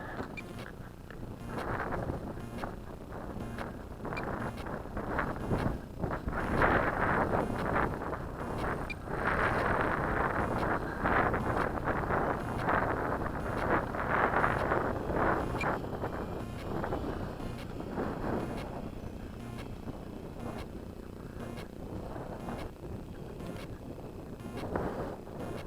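Gusting wind buffets the microphone outdoors at an RC flying field where an E-flite Turbo Timber is flown, a rough, fluctuating rumble that rises and falls in irregular bursts throughout.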